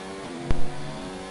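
An F1 race car engine in a racing video game at the Hungary circuit, a sustained high, buzzing engine tone with a sharp thump partway through and a slight pitch shift as the car gets back on the throttle.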